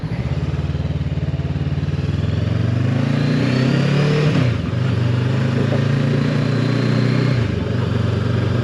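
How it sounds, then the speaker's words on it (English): A Voge 500DSX motorcycle ridden on the road, its engine droning loud and steady up close with wind rush, rising in pitch, dipping briefly at a gear change and climbing again before another shift. "Going through gears like a brand new bike should."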